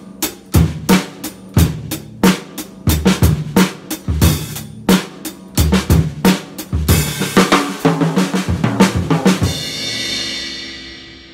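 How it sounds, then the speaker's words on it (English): Basic rock beats on a drum set, kick, snare and cymbals locked in steady repeating patterns that build toward a busier passage and end on a ringing crash, loud and close, no voices. "I'll also introduce you to the basic rhythms and beats that you can use to accompany music"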